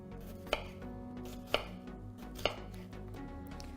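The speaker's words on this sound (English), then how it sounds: "You're gonna start by chopping the potatoes into chunks." Potatoes are cut into chunks with a knife, three distinct chops landing on a cutting board about a second apart, close by, over a low steady kitchen hum.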